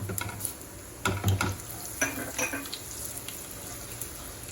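Seasoning of mustard seeds, black gram dal, sesame, ginger and chopped chilies sputtering in hot oil, with quick crackling pops and stirring clatters in short bursts over a low background hiss.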